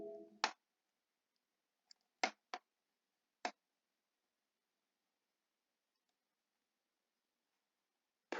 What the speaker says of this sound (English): I'm typing. Nothing is happening.